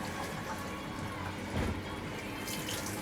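Water runs from a tap at the kitchen sink inside a trailer food kiosk in Zhytomyr, a steady close hiss with a brief louder splash midway.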